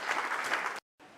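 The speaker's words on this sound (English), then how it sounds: "So he deserves a round of applause." An audience applauds steadily at a political gathering, a dense wash of many hands clapping that cuts off abruptly, leaving a brief silence before fainter clapping resumes.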